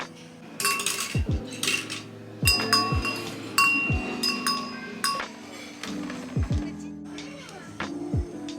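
Water glasses clink together in a toast at a forest cabin while camping in Japan, giving several bright, ringing taps spread over a few seconds with soft background sounds between them.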